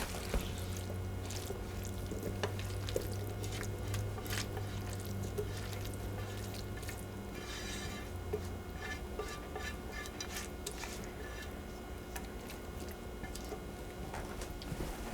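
Lamb and sausage pie filling is spooned into a pie crust, giving soft, wet squishing and splattering sounds with light scraping throughout, close and steady, with no talking.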